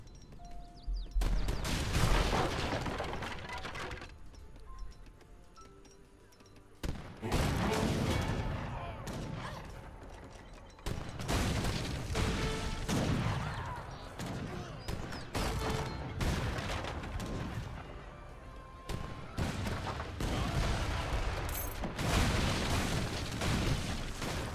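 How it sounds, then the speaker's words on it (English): Mortars and gunfire boom in an Age of Empires 3 Definitive Edition battle, repeated heavy blasts and crackling volleys in dense overlapping bursts, loud and continuous for the whole stretch. "Look at all the mortars France got with all that coin."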